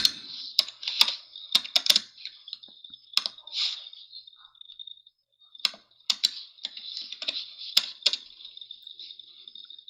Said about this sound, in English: Hit the keyboard hard so he can find you what you are looking for.